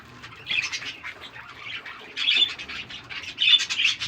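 Pet birds squawk and chirp while eating clover, their bursts loud and close and repeated in uneven clusters over a quiet background.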